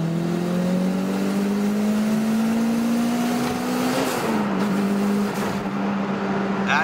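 Turbocharged 2000 Toyota MR2 Spyder with a 2ZZ-GE engine on 10 lbs of boost revs steadily higher, its loud engine note climbing for about four seconds before a brief drop and settling, heard up close from inside the car.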